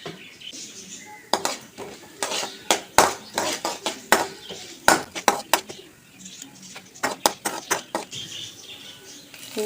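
Mustard seeds and urad dal hit hot oil in a pan for upma, giving rapid bursts of sharp crackling pops and spatters that come in irregular clusters, fairly close and loud, with occasional utensil clinks.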